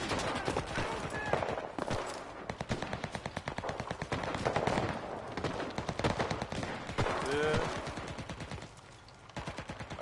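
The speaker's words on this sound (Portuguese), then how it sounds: "Tô tentando ver de onde que tá vindo os tiros." Gunfire from the video game Enlisted: rapid automatic bursts crackle almost without pause for the whole stretch, loud and dense, with shots overlapping into a steady clatter.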